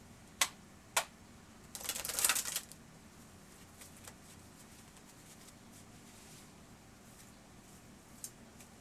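A few sharp taps, then a single quick riffle of shuffling cards close by, followed by near silence and one faint click.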